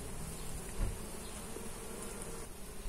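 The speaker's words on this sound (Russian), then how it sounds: "сколько же здесь пчелок" Bees hum steadily around blooming mustard plants in a garden, a continuous low buzzing drone with no voices.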